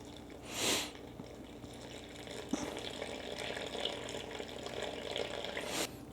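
Warm water pours into a bowl on a kitchen scale for sourdough bread dough, a soft steady trickling stream running for several seconds after a brief splash, close and alone without talk.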